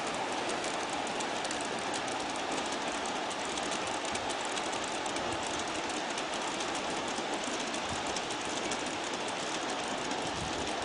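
An Aristo RS3 model locomotive refitted with BB motor blocks runs along a layout track toward a horseshoe curve, making a continuous close rumbling whir with fast rhythmic clickety-clack from the rails and no talking.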